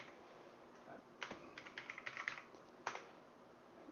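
Rapid clicks from a computer keyboard as someone types a short search term, a quick burst of keystrokes with a brief pause and a final tap, fairly close and alone.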